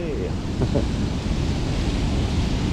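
Mountain torrent rushing past on a Swiss hike near the Emosson dam, a loud, steady broadband roar mixed with wind buffeting on the microphone, with a brief faint voice near the start.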